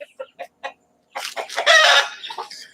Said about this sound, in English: Ooh, that mighty chicken fight.